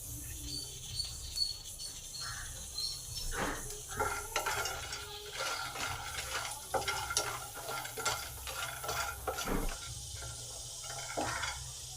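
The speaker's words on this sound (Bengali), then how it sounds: "এবার বড়িগুলোকে ভেজে নেব বড়িগুলো কীরকম একটা লাল লাল কালার হয়ে এসেছে এবার আমি তেল দেবো" Bori lentil dumplings fry in hot oil in a home kitchen, giving a steady low sizzle broken by stirring scrapes and light clinks of a utensil against the pan, close and moderately loud with no talking.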